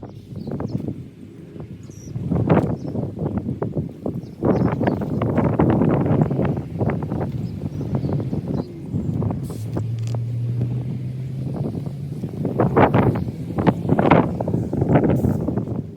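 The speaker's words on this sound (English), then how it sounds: "it's getting kind of windy here today" Gusty wind buffets the microphone outdoors on a farm garden in rough, uneven bursts, loud and close, with a faint low hum in the background.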